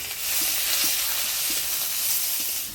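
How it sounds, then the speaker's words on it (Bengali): Onion and green chillies sizzle steadily in hot oil in a home kitchen, a continuous bright frying hiss with a few soft stirring taps, close and alone. "এবার তেল চচ্চড়িটা করে নেব দিয়ে দিচ্ছি পেঁয়াজ কাঁচা লঙ্কা"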